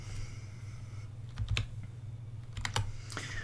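Scattered mouse or keyboard clicks sound on a computer at a desk, a few light taps over a steady low hum, with no speech.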